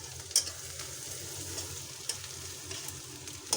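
Onions fry in mustard oil for a mutton curry, giving a steady, close sizzle and crackle with a few sharp pops and light stirring scrapes throughout.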